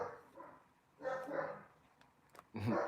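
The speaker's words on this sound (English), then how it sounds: "Rocky is barking up a storm." Dog barks in bursts, a few sharp yaps spread across the moment, fairly close, with some voice-like sounds mixed in.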